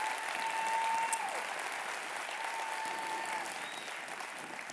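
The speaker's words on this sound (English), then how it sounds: "do you have another clap in you at the beginning here?" A church congregation applauds single mothers: steady, moderately distant clapping throughout with faint voices underneath.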